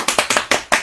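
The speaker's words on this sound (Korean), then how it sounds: "박수 쳐야 되는데" Hands clap in a quick, even run, six close and loud claps during a reading session, with no voices over them.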